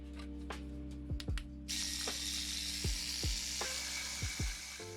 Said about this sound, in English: It's a lot easier to see the material getting sanded.